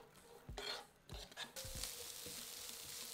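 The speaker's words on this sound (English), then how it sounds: "Add in a finely diced onion and cook for 4 to 5 minutes until the onion starts to" Finely diced onion added to a frying pan over medium heat: a few bumps and clatters of utensils against the pan, then a soft steady sizzle that continues quietly to the end.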